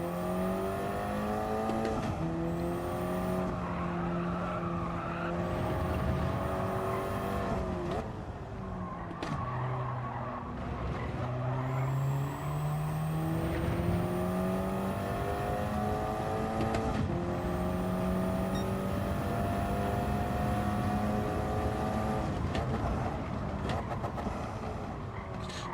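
Single-make race cars lapping in a racing video game, engines droning and shifting pitch loudly and continuously throughout, with tyre and curb noise mixed in and no talk.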